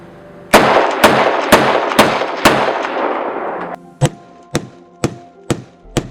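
Ten sharp rifle shots from a Ruger Mini-14 fired outdoors at night crack out at a steady, roughly half-second rhythm, each loud and close; the first five ring with a long tail and the last five sound drier and shorter.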